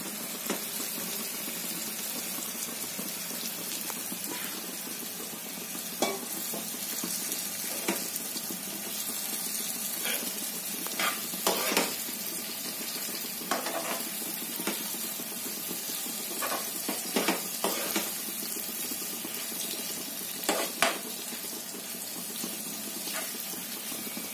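Masala bheja (brain) frying in a pan, a steady broadband sizzle with scattered sharp stirring clicks and scrapes, close and continuous, no talk.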